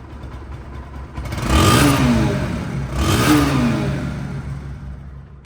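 A Bajaj Pulsar motorcycle engine revving hard twice in quick succession, each rev swelling up and dropping back over a loud idle, close by.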